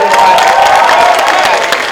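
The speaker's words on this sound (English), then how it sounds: "Let's give my parents a big round of applause right here." An audience claps and cheers steadily throughout, a dense, loud wash of applause with scattered voices in the crowd.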